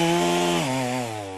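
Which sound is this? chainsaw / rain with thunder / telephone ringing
chainsaw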